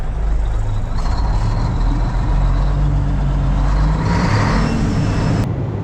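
A truck with a two-stick shifter backing up to pull a trailer, its engine rumbling loud and close with a steady low drone and some mechanical clatter.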